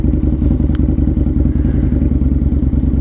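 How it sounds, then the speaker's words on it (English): A 2003 Harley-Davidson V-Rod motorcycle on a test drive, its engine a loud, continuous low rumble with a fast pulsing beat and some mechanical clatter, heard close up and steady throughout. "This is the best part about my job. Test driving the bikes."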